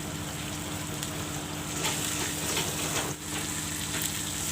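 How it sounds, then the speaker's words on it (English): Masala sizzling and frying in a pan for a coriander mutton curry, a steady close crackle and hiss with light stirring scrapes, no voices over it. "Let the masalas fry nicely"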